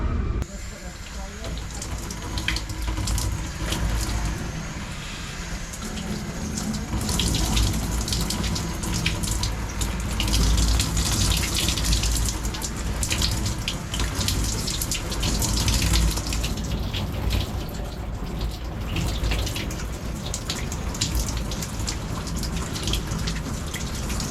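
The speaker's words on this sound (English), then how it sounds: "You just saw my wife do a water leak test on our tonneau cover" Water sprays steadily onto a Tesla Cybertruck tonneau cover during a leak test, a continuous hissing, splattering rush that stays even and fairly loud for over twenty seconds, with faint voices mixed in.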